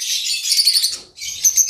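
Caged rosy lovebirds chatter in a dense burst of shrill, high chirps, pause briefly, then resume, loud and close.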